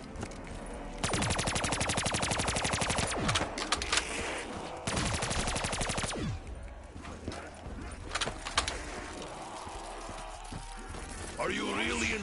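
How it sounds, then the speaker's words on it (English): Bursts of rapid automatic gunfire from a PS4 video game, loud and dense in two long volleys with scattered shots between, mixed with game sounds and some background speech. "Don't be shooting that gun"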